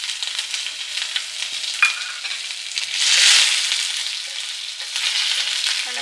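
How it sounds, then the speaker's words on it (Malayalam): Crushed garlic and curry leaves hit hot oil in a pan, giving a steady sizzling hiss that swells into a louder burst midway, with light stirring scrapes and no voices. "അതിലേക്ക് കറിവേപ്പില, ഇനി നമ്മൾ വെളുത്തുള്ളി ചതച്ച് വെച്ചത് ഇട്ട് കൊടുക്കാം."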